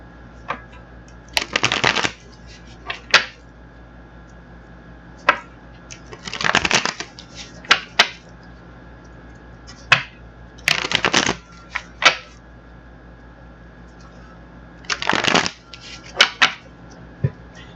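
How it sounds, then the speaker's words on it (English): Cards are riffled and shuffled in several separate bursts, each a quick fluttering rush, with soft taps and handling sounds in the gaps. "let's get the other deck shuffled"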